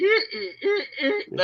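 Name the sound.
voice imitating a monster's donkey-like bray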